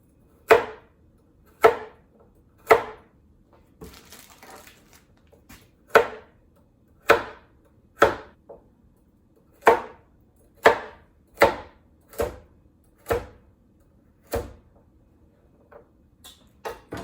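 A knife chops carrots into quarter-inch round slices on a cutting board, giving crisp, evenly spaced thunks about one per second, close and loud, with a brief softer rustle partway through and no talking.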